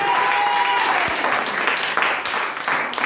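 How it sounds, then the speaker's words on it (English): A church congregation claps steadily throughout, a dense wash of applause from the crowd with a brief tonal note near the start. "can you clap your hands for God once again?"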